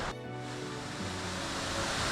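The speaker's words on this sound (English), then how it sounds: "Starting to definitely hear water" Steady rushing water roars continuously, broad and full, from Upper Gooseberry Falls close by, with no voices.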